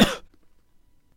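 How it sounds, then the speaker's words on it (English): A single sharp, loud cough bursts out at the start, then fades into near silence with only faint background hiss. "Hit pause and use trimming to remove this cough from the recording."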